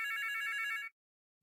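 Electronic telephone bell rings in a steady warbling trill, loud and close, cutting off abruptly after under a second, with no talk over it.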